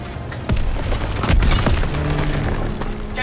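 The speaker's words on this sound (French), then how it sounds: "Un panzer Shrek nous tire dessus!" A Panzerschreck rocket explodes in the WWII shooter Call of Duty: WWII, a sharp nearby blast with splintering debris, then sustained rumbling battle noise.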